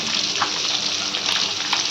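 Five fish pieces sizzle steadily in hot oil for a Kerala-style fish curry, a dense continuous frying hiss with small pops and crackles throughout, close and fairly loud, with no voices.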